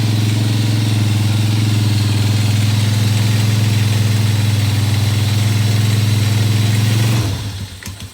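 A Rally 200 scooter engine runs steadily after a carburetor fix, with the air filter off in a smoky room, giving a loud, close, even idle drone before it cuts off near the end.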